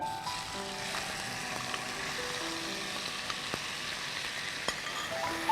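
Chopped garlic frying gently in oil in a kitchen pan, a steady soft sizzle throughout with faint utensil clinks and taps, no talking.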